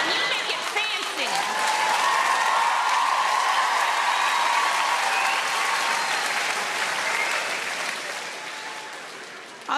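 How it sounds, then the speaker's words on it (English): A comedy club audience at a stand-up show claps steadily in loud, dense applause that swells, holds and then tapers off toward the end. "All those women clapping"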